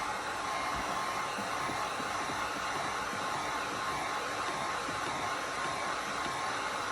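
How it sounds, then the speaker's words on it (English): A heat gun blows steadily on an epoxy-coated tumbler, giving a continuous broadband whoosh of hot air that stays close and even throughout with no talking. "I'm gonna grab my heat gun just to help spread this out."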